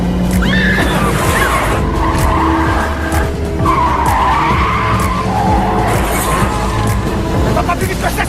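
A car skids at speed in a video game chase, with long wavering tire squeals over a loud, steady engine roar, while voices shout urgently underneath.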